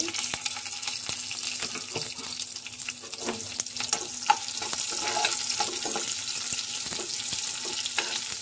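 Chopped onion frying in oil for gongura chutney, a steady close sizzle running throughout with scattered clicks and stirring taps, no voices.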